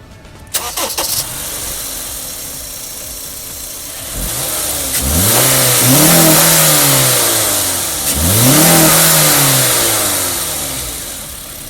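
A Honda CR-V RM with a K24 2.4L engine is cranked and starts after a few clicks, then revs up twice in loud, close sweeping rises before settling back toward idle.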